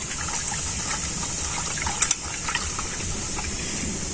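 Water splashes steadily into a pot on a village stove, where seeds are about to be boiled. A continuous trickling, gushing flow runs throughout, broken by a couple of brief clanks around the middle.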